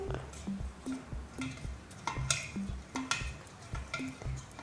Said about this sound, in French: Et après, on mélange le tout.